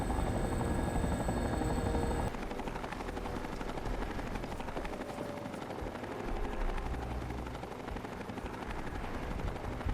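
A Vertibird aircraft from Fallout 3 comes down near a control tower, a strong rotor whine and drone that stops abruptly after about two seconds, leaving gunfire-like crackle and rumble in the background.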